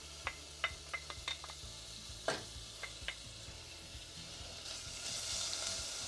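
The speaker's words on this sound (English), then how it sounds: "We're going to add the chopped bacon." Chopped bacon sizzles in a medium saucepan over medium-low heat, a soft steady frying hiss beneath scattered sharp clinks and stirring scrapes, the crackle building toward the end.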